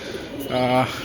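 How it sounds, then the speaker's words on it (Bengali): Male stock pigeons in a loft give a short, close coo, a single droning call swelling near the end of the moment over faint room noise. "এদিকে সব স্টক নর কবুতর আমার"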